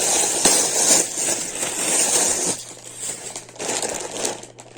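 A large plastic parcel bag from a postal delivery is unpacked, its loud, close crinkling and crushing rustle running for several seconds, easing briefly midway, then picking up again before fading.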